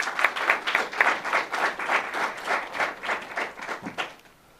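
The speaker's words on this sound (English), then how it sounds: "Would you give him a round of applause," A small crowd claps for a newly announced university head coach at a live event, moderately quiet applause with individual claps audible in a loose rhythm, fading out near the end.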